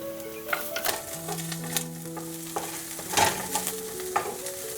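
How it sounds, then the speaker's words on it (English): Onion frying and simmering in a pan with garlic, ginger and green chili for garbanzo beans, giving a soft steady sizzle, with tonal hum lines and scattered clinks and scrapes from stirring, no talking. "I am going to let it simmer until the onion gets brown"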